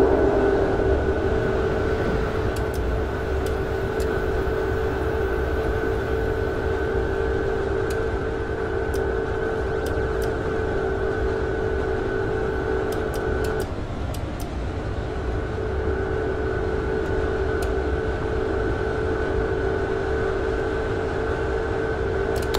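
A train runs at the railway station of a new airport, a steady loud rumbling drone with a sustained tonal hum that briefly drops out midway, continuing unchanged for over twenty seconds.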